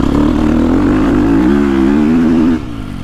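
A 2022.5 KTM 250SXF Factory Edition dirt bike engine revs loudly and close, holding a rising mid-range pitch before the throttle drops off near the end.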